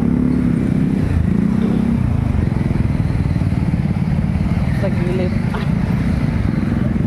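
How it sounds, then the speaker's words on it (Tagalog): Motorcycle engines rumble steadily amid dense traffic noise at a busy night fish market in Parañaque, close and loud, with a murmur of voices in the background. "grabe na ang mga motor, ang dami sasakyan"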